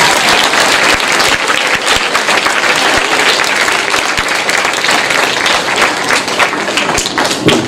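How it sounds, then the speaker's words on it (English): A crowd at a school commemoration event claps loudly and continuously, with a few sharper individual claps and thumps standing out from the dense applause. "join me in giving them a huge round of applause"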